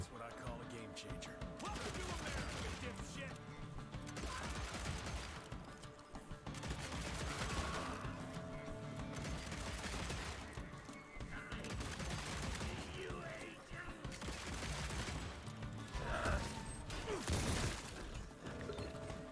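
Rapid bursts of revolver fan-firing crackle in quick succession in the video game Evil West, repeated volleys with mechanical clicks between them, under a busy game soundscape.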